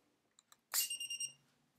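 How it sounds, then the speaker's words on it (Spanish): A single short electronic beep, bright and tonal, lasting about half a second after a couple of faint clicks, in an otherwise quiet room, from a minisumo robot board connecting over Bluetooth. "Habéis oído el pitido."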